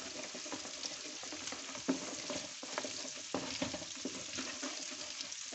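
A spoonful of flour cooks in oil in a pan for garlic pork ribs, giving a soft, continuous sizzle broken by quiet stirring scrapes and taps.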